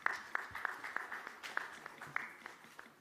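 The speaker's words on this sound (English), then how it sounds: "all of you, give a big round of applause." Scattered, sharp claps from a small conference audience at a Dubai tech event, a few hands clapping in an uneven rhythm, fairly faint and distant, with no talking over them.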